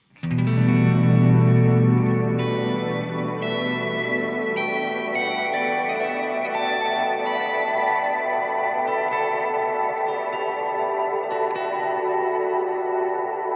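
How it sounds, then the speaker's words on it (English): An electric guitar played through a Strymon reverb pedal with the decay turned fully up: struck notes melt into an endless, shimmering wash, and new notes stack on the lingering sustain without fading out. "When you put the decay all the way up, you kind of have an infinite kind of reverb with it."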